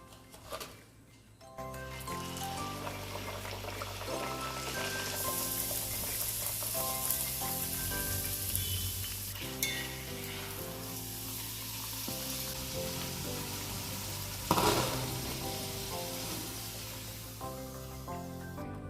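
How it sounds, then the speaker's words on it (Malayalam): Poori dough deep-fries in hot oil with a steady, bright sizzle and hiss, continuous throughout with one sharper flare near the end, while background music plays underneath. "ബാക്കിയുള്ളത് ഇതുപോലെ തന്നെ നമുക്കൊന്ന് ഫ്രൈ ചെയ്തെടുക്കാം."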